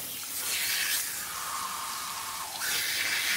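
Warm water runs steadily from the tap of a salon shampoo bowl at good pressure, a continuous close hiss and splash that stays even throughout with no talking.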